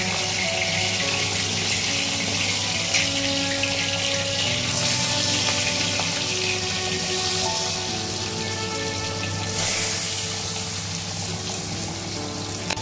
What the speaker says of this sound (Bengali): আর এইভাবেই আমি বাদবাকি মাছগুলোকেও ভেজে নিচ্ছি হালকা করে